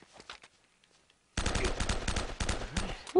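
Gunfire from the Uncharted video game erupts after a second of near silence, a dense, loud burst of rapid shots continuing to the end of the clip.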